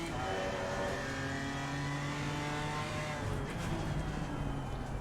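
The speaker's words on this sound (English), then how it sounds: "That sounds like a BMW, doesn't it?" A BMW GT4 race car in Assetto Corsa Competizione sends out a steady, loud engine note with rising and falling harmonic tones over a continuous rumble, as if heard from the cockpit during a lap.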